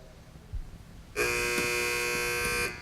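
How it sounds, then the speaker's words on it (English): After a short quiet pause, a harsh electronic quiz competition buzzer sounds loudly for about a second and a half, then stops. "Teams wait for a buzzer."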